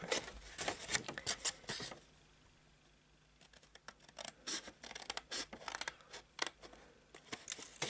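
Scissors bevel the corner of a paper glue tab on a craft box, giving a close, quiet run of crisp snipping and rustling cuts in short bursts, with a brief pause midway and no talking.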